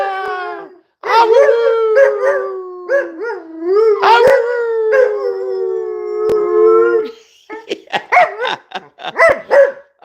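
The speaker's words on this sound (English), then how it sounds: "I love my puppies. They're great." Several puppies howl together in long, wavering, rising and falling cries, loud and close, broken by short yips and barks toward the end.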